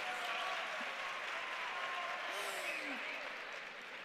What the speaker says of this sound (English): So I'll give you applause now too.